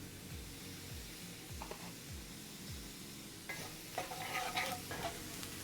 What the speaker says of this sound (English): right now we're kind of blooming the spices, or the herbs and the spices